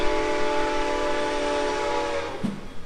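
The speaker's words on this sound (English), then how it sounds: "the train is coming in" An arriving train's horn blows in long sustained harmonic tones over a steady rumbling rail background, with a brief thump near the end.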